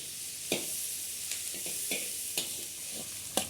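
Chopped onions sizzle in hot oil in a pan on a home stove, a steady soft hiss broken by several sharp stirring clicks, close and fairly quiet with no talk.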